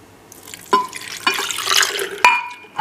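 Milk and whipping cream pour into a homemade strawberry ice cream mixture, a close splashing, gurgling liquid stream with a few sharper drips and splashes, rising and falling in bursts.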